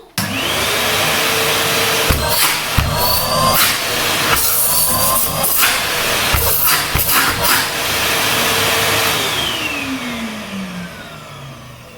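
A Numatic Henry Pet XL vacuum cleaner switches on and runs loudly and steadily nearby, its motor whine holding constant, with brief bumps and knocks over the hum before the pitch winds down toward the end.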